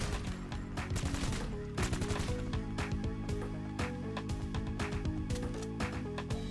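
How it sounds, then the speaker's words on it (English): Heavy, sustained gunfire from GTA 5 Online, rapid overlapping bursts of automatic weapons crackling close and loud without a break for the whole stretch. "Start shooting, motherfucker"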